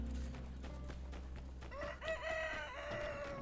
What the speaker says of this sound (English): That rooster is a bit off the clock.